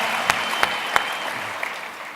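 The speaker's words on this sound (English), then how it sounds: "give him a round of applause." A panel audience at a network marketing event gives a brief round of applause, a steady wash of clapping with a few sharp, distinct claps standing out near the start.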